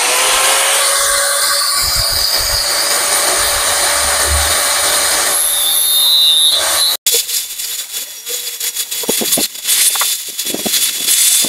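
A grinder works on the clutch of a Yamaha Sniper 150 to remove pins, with a loud, high whine that holds steady for several seconds, then a cut-off followed by scattered scraping and clattering.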